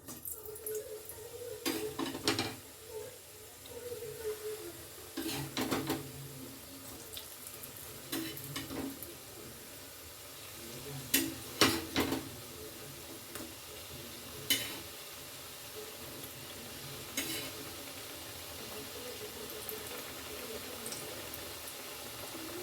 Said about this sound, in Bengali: সেঁকে নেওয়া কচুরিগুলো এবারে আমি একে একে গরম তেলে ছেড়ে দেবো